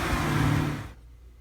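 A 2016 Cadillac CTS-V engine revs loudly and close up in a single burst of deep roar that cuts off sharply about two-thirds of the way through, leaving a low idle rumble.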